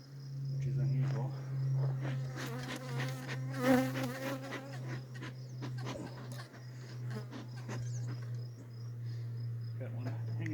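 Honeybees buzzing steadily around an open hive during a summer hive inspection, a continuous close insect drone with some passing louder swells as individual bees fly near.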